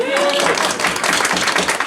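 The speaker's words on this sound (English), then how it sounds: "Oh, big round of applause." A conference audience breaks into applause, a dense spread of many hands clapping together, with a voice faintly heard near the start before the clapping carries through to the end.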